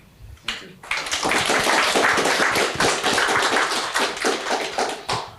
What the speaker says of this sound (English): I would like to ask for a round of applause to our guests